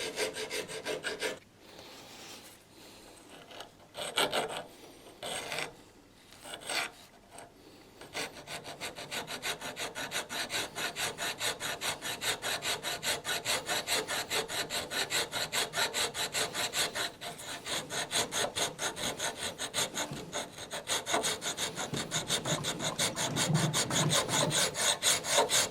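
A hand file cuts relief into the front of bandsaw teeth with a dry metal-on-metal rasp. The strokes start uneven and broken up, then settle into a long run of fast, steady rasping, close and fairly loud, with no talking.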